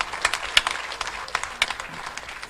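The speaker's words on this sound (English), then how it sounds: "Can we clap for the President," Scattered, fairly faint clapping from an audience for the President of Uganda at the Karuma hydropower plant commissioning, a few sharper claps standing out from a thin patter.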